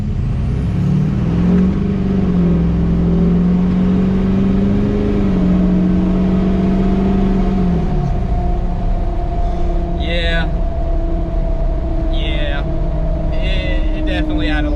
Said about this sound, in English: hear the increase in speed by the tires winding up